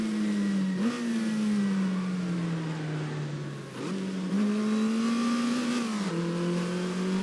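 An Alpine A210 race car engine revs hard alone, climbing through gears with sharp rises and brief dips at each shift, loud and close with steady intensity throughout.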